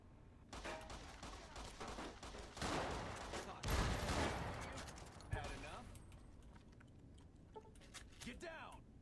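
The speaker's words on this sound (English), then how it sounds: "Shotgun." Shotgun blasts and gunfire in the video game Fallout: New Vegas ring out as several loud bursts amid busy combat noise, with a voice talking over parts of it.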